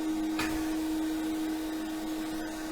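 A pedal-operated sandblaster runs with its nozzle blocked, giving a steady close mechanical hum and hiss with one short burst of air near the start, no talking.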